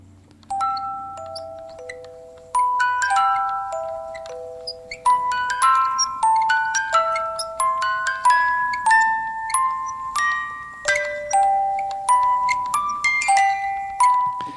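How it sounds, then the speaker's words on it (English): Music box plays a slow, tinkling melody of bright plucked notes that ring and decay, clear and alone, starting softly and continuing steadily. "it starts with that music box"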